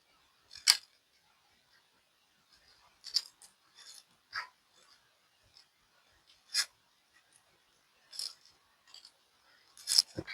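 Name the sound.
inserting four screws into Bambu Lab X1C extruder lid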